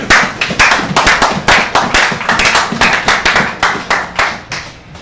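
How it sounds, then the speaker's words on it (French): A church congregation breaks into loud, sustained applause, with dense overlapping claps that rise and fall in waves close by. "Acclamons pour la parole de ce matin."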